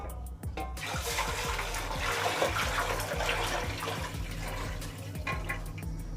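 Water running and splashing into a cooking pot for rice during chicken dum biryani cooking, a steady close gush across the whole stretch, with some clicks and knocks over it.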